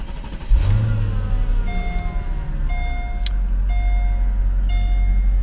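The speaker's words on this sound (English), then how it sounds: "Now I will try to start the car" A Mercedes SL 500 with a freshly replaced battery cranks and fires up, the engine catching in a surge and settling into a steady, close idle while repeated warning beeps chime over it.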